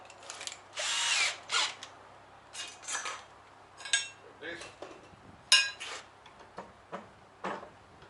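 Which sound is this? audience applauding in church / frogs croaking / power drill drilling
power drill drilling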